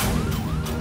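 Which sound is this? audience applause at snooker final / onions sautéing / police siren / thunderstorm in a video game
police siren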